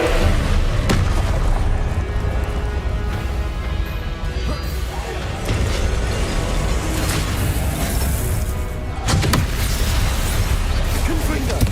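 Confringo explosion spells in Hogwarts Legacy go off as loud, dense booms and crashing blasts, hitting repeatedly and merging into a continuous roar, with a voice talking over them.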